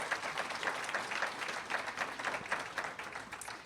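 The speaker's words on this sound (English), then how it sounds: "Let's give him a round of applause." Library audience applauding to welcome a guest speaker at an evening talk, a steady wash of many hands clapping at moderate loudness, sustained evenly throughout with no voices on top.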